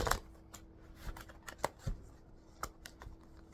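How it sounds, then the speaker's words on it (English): A deck of cards is shuffled by hand, faint scattered taps and soft riffling clicks close by, quiet and without talk. "Hold on, let me shuffle first."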